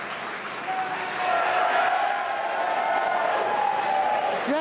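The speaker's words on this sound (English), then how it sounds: "Very exciting day, as you can hear the crowd behind me." A crowd applauding and cheering at a SpaceX Crew Dragon launch, a sustained wash of clapping and cheers heard from a distance behind a voice, holding steady throughout.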